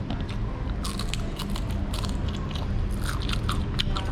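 Crisp, crackly crunching from bites into something fried, close up, with repeated sharp crackles and a low rumble underneath.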